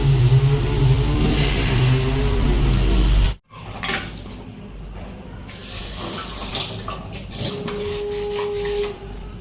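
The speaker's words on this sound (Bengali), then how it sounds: "এখন এই হাঁড়িটা মাজবো, মেজে ভাত বসাবো।" A cooking pot being scrubbed in a home kitchen, scraping and clattering of metal under running tap water, loud and close, the water cutting out briefly partway through.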